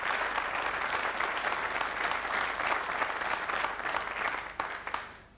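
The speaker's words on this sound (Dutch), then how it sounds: "Een applaus daarvoor." Studio audience applause on a 1996 Dutch television relationship-test show, a steady dense wash of clapping that holds evenly for about five seconds before tapering off at the end.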